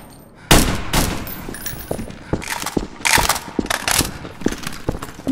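Shotgun fire in Garry's Mod during an SCP Breach round, several loud, sharp blasts in quick uneven succession, close and punchy with short gaps between shots.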